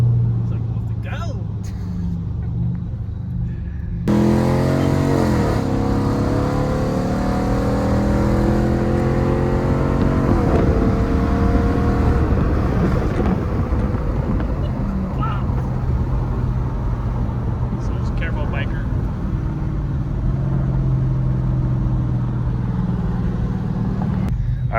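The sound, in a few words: 5.7 Hemi car doing a baseline dyno pull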